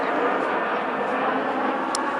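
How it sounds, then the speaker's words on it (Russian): A low-flying airplane passes overhead with a steady, broad engine roar that fills the whole moment and stays loud and unbroken throughout. "Слышите, самолет летит опять."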